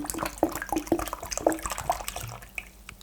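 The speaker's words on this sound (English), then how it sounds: "So I put in 4 bottles of water." Bottled water is poured into a jar of Korean pear kimchi, with irregular splashy glugs and drips at close range and no voices.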